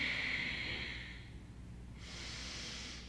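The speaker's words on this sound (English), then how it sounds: "Building up that heat by breathing nice and deep." Deep nasal breaths during a yoga flow, a long inhale followed after a short pause by another strong breath, close and fairly loud with no talking.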